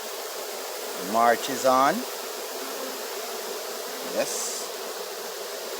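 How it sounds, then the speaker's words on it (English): A healthy colony of bees in Jamaica moving into a new hive box makes a steady, close-up swarm buzz that runs the whole time, with someone briefly talking over it. "It's a healthy colony of bees. And they're moving in my little new box that I'm putting them in."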